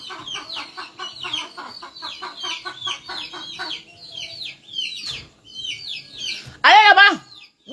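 Several hens clucking and chattering close by in a yard, a busy run of short repeated clucks, then a loud squawk near the end, with people talking intermittently.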